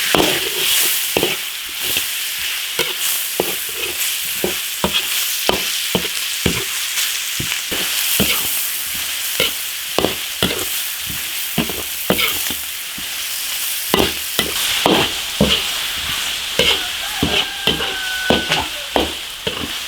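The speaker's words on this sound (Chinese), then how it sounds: "把它炒香。" Ginger, garlic and chili bean paste sizzle in hot oil in an iron wok while a spatula scrapes and clanks in a steady, busy rhythm, close and loud throughout.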